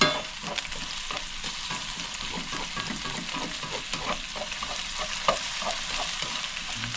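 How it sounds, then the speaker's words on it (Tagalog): Garlic fries in a pan with a continuous bright sizzle, broken by the scraping of occasional stirring, close up and with no talking. "Pa-brown lang natin yung ating bawang."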